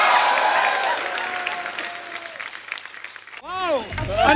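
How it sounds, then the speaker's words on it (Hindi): A studio audience on The Kapil Sharma Show applauds the guests, a broad wash of clapping mixed with voices and a musical sting, easing briefly before a tonal sweep and renewed cheer at the end. "अनन्या, धैर्य और सिद्धांत चतुर्वेदी के लिए जोरदार तालियां।"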